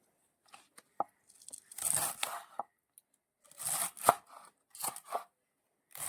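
Spring onion stalks are chopped with a knife on a board, in short bursts of crisp, close cutting strokes separated by quiet pauses, with no talking.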